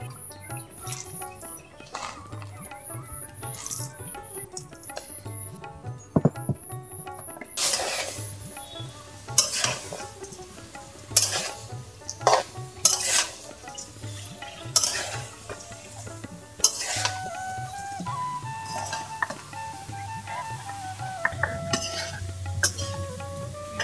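Jackfruit seeds cooked together with potato, eggplant and stems in a pot on a village kitchen stove: scattered clinks and scrapes of a spoon against metal over a low simmering sizzle, uneven and close, no voices.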